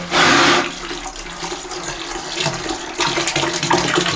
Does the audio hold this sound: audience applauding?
no